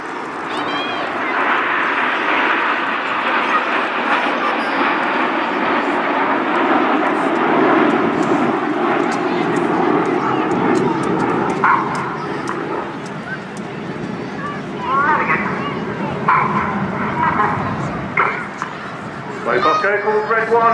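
Red Arrows jets in Phoenix formation at Torbay Airshow, a loud sustained roar that slowly fades as the aircraft pass away, with a commentator talking over the noise throughout.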